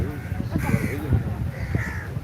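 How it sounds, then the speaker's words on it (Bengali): A crow caws a few times nearby, harsh and raspy, while people talk over it. "এই দেখ কাক বসে গেল,"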